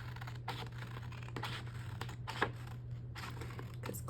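Scissors or a trimmer snip along the edge of a paper planner page in a quiet room, a series of short scratchy cuts repeating roughly every half second over a low steady hum.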